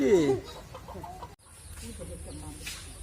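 Chickens clucking near the listener as they are fed, a loud burst of fowl calls at the start followed by softer scattered clucks and rustling.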